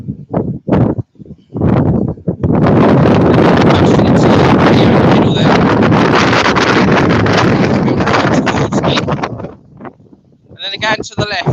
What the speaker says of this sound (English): It's so windy the camera can't hold itself.